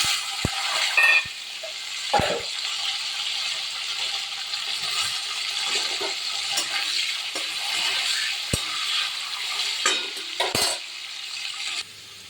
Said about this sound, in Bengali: আর এই আলুটা একটু ভেজে নিলাম